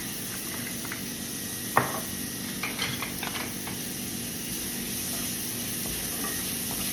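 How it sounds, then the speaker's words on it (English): Small onions sizzle quietly in a hot pan with granulated garlic as they caramelize, a soft continuous fry broken by a few light scrapes and clicks of stirring. "I'm just going to stir those around and let everything get good and caramelized"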